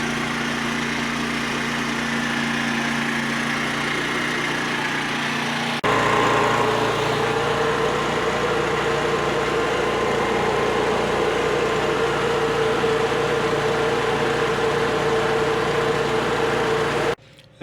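A HECHT IG 3601 small petrol generator runs under load powering a house, humming with a steady engine drone that deepens and shifts pitch partway through as load changes, continuous and close, without talk.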